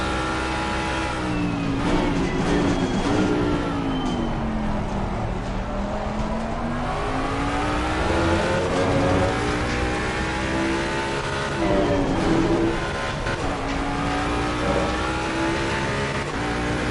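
A Ford Mustang GT3 in the racing game Assetto Corsa Competizione revs hard around the Kyalami circuit, its engine note climbing and dropping repeatedly through gear changes, loud and continuous.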